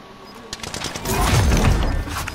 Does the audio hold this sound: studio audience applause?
no